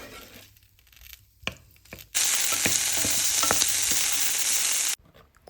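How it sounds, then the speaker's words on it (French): Prepared shrimp frying in a pan, a loud steady sizzle that bursts in after quiet handling noises, holds evenly for about three seconds with a few sharp ticks, then cuts off abruptly. "200 g de crevettes déjà préparées. Cuire quelques minutes à la poêle."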